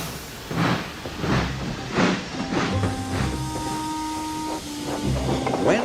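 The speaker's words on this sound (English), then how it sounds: "with a low toot, Thomas chuffed sadly back to Tidmouth." Toy wooden Thomas tank engine scene: a rhythmic series of hissing steam chuffs, about six puffs, with a steady low whistle-like toot tone running through the middle, fairly close and alone without talk.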